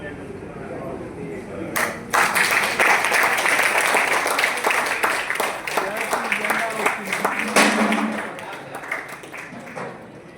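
An audience applauding at a magic show, dense clapping that bursts in after a short pause, carries on strongly for several seconds and then thins out, with voices mixed in.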